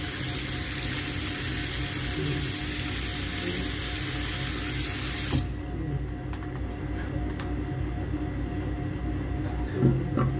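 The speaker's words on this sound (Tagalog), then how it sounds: "Lagyan natin ng konting tubig." Water runs steadily from a tap into a sink as a broad, loud hiss for about five seconds, then stops abruptly, leaving quieter room sounds and a few small clinks.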